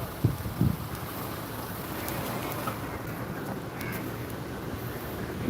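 Strong wind roars across the open hilltop at Jatayu Earth's Center, a steady loud buffeting rush over the microphone that goes on without a break after a couple of brief thumps at the start.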